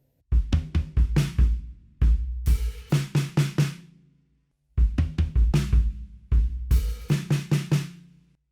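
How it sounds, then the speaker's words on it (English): A drum kit plays a groove built on bass drum and floor tom combinations, with heavy low thuds and bright cymbal crashes in two repeating bursts separated by brief gaps, loud and close with no speech. "approach B with the bass drum and floor tom combination would sound like this"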